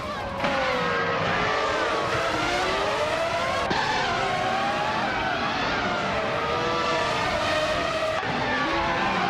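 A Minardi M198 race car driving in a racing video game: a sustained, loud, high-pitched engine whine that rises and falls with gear changes and throttle, continuous throughout with no talking.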